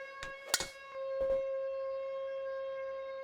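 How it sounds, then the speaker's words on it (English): A steady siren tone holds after a couple of sharp clicks and thumps, sustained and fairly loud through to the end, in the video game PGA TOUR 2K23. "The siren is blaring."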